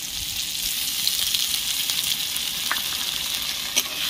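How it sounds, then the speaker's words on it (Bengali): Ginger paste being fried with chili powder in a pan for a vegetarian papad curry, a continuous bright sizzle with occasional stirring scrapes and small pops, close and steady with no talk. "দিয়ে আদাটাকে ভালোভাবে কষিয়ে নেব, আদা যতক্ষণ না কাঁচা গন্ধটা যাচ্ছে।"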